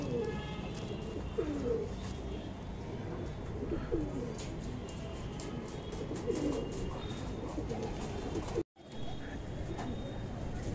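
Pure red Punjabi pigeons give soft, repeated low coos over a continuous background hum, fairly faint and intermittent across the stretch.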